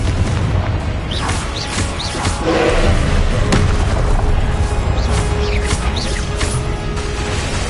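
Incendio and Confringo spell blasts in Hogwarts Legacy go off as repeated thuds, booms and slams over a dense, rumbling combat bed. Short whooshing swishes rise between the hits.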